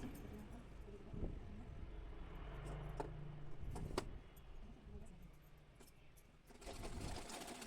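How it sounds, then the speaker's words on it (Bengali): A sewing machine stitches a folded edge of petticoat fabric, whirring in short, close runs broken by brief pauses and a few clicks, at a moderate level with no talk. "একটু মুড়ে সেলাই দিয়েছি দেখো এইটুকু"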